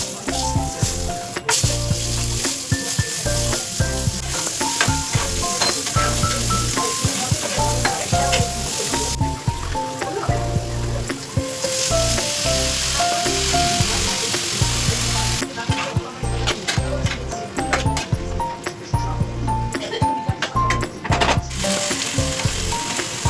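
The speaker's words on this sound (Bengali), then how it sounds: "এখন আলু ভাজাটা আগে রেডি করে নেব রাতে ডিনারের জন্যে" Thinly sliced potatoes sizzle steadily in hot oil, a loud continuous frying hiss with frequent clatter and scraping from stirring, with background music playing throughout.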